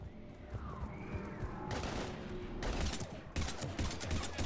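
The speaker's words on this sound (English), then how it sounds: "we're taking heavy fire" Heavy sustained gunfire in Mass Effect 3 combat, dense automatic bursts that build and intensify over several seconds, loud and close with overlapping shots.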